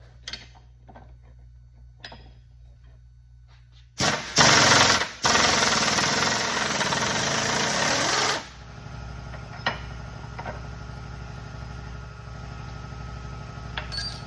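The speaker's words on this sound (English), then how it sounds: "now it's time to pull the reverse gear right here. It's pressed and splined on there" A custom long-legged puller pulls a pressed, splined reverse gear off a Corvette C7 TR6070 seven-speed transmission in a machine shop. After quiet handling noises, a loud harsh mechanical grinding runs for about four seconds, followed by a steady hum and scattered clicks.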